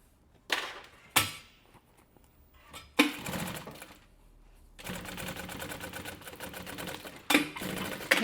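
A sewing machine stitches a backpack in several bursts of rapid mechanical clatter separated by pauses, ending with longer runs as it backstitches, close and without talk.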